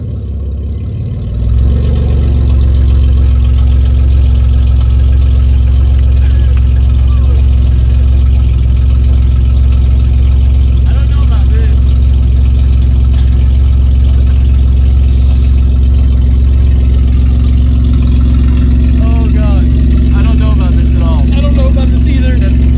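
A Honda Accord running with no exhaust fitted starts up after a second or two and settles into a loud, steady, raw low rumble that continues throughout, with faint voices underneath.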